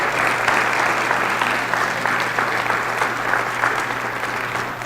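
A crowd applauds a singing group at a school district volunteer recognition event, a dense, even wash of clapping sustained for several seconds with a low steady hum in the room beneath it.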